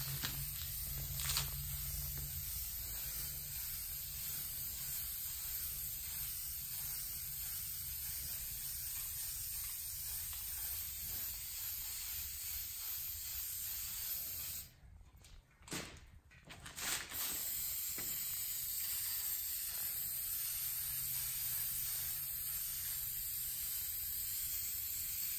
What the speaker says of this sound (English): Don't breathe in the spray paint.